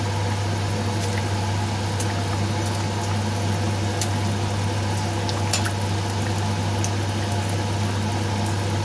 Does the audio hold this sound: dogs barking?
no